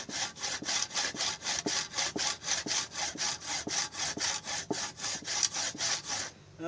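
A hand saw cuts through a hard material in steady back-and-forth strokes, about three per second, close and rasping, ending abruptly.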